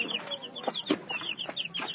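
Thirteen-day-old chicks peep in a run of high chirps, with a few soft clucks and louder cheeps, close and steady with no talking.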